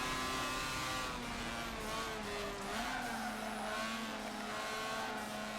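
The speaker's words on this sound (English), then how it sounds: "you can hear me trying to balance the car with the throttle, turning a little too tight" Mazda RX-7 engine in the Forza 7 racing game, droning steadily with throttle modulation while tires squeal through a tight turn, loud and continuous with no talk.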